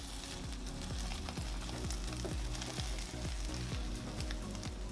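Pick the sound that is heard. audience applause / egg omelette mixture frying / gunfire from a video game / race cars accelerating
egg omelette mixture frying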